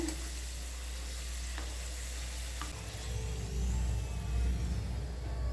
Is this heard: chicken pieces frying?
yes